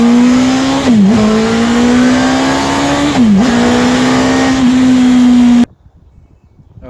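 Bond Bug three-wheeled car with its engine revving loud and close, a strong steady buzzing drone that dips briefly twice with gear changes, then cuts off abruptly, leaving quiet faint background.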